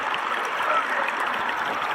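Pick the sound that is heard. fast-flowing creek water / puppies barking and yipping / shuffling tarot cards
fast-flowing creek water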